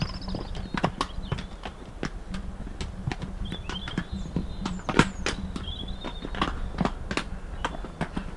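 A horse's hooves clip-clop in a brisk irregular rhythm during an equestrian event, crisp and close, with faint background noise between the strikes.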